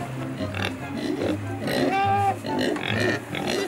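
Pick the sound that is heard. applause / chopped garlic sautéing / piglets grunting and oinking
piglets grunting and oinking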